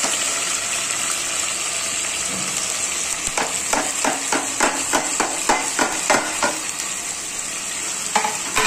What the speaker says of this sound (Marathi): ही मटकी आहे ना चांगली याच्यामध्ये आहे ना तेलामध्ये फ्राय करून घ्यायची